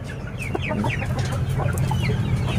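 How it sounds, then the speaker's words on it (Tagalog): Two-month-old chicks and young chickens cluck and peep in a continuous busy flock, close and fairly loud, with overlapping chirps and calls against a low background rumble and no speech. "subukan na natin pakainin yung ating mga 2 months old mga kasiken"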